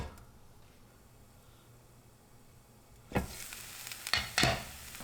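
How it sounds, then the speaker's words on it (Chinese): An okara and egg pancake fries in a little oil over medium-high heat: a faint, steady hiss at first, then louder bursts of crackling sizzle nearby. "如果你喜欢表皮脆脆的，就加一点点油，调成中大火，把表皮烤香"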